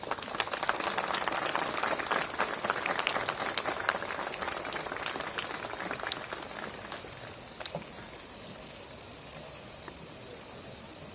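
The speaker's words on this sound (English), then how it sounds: "Can we give another round of applause to His Excellency?" Applause fills a formal ceremony honoring anti-apartheid figures with French President Macron and the South African Deputy President: a sustained, crackling patter of many hands at moderate distance, steady throughout and gently fading toward the end, with no talking.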